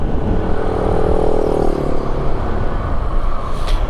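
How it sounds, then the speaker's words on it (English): Steady roar of passing cars and motorcycles near the Barber Small Bore Festival, a continuous loud rush of traffic with a brief engine swell, no voices. "I hear the cars."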